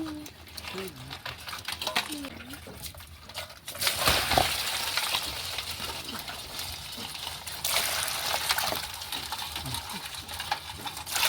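Water splashes and pours into a container for soaking large crabs to loosen mud, a continuous rushing that starts partway through and follows brief talking at the start.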